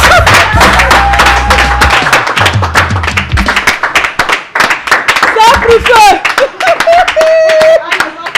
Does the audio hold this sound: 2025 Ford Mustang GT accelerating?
no